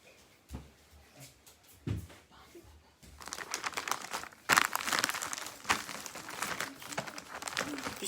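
Gift paper crinkles and rustles as presents are wrapped, quiet scattered crackles at first, then a denser run of crumpling and crisp handling noises close by.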